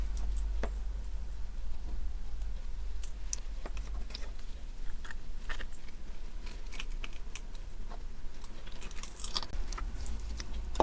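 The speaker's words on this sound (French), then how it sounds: "Je mets ma clochette." A small metal bell charm on a papercraft embellishment jingles in quick, light, scattered clinks, close and fairly quiet over a low steady hum.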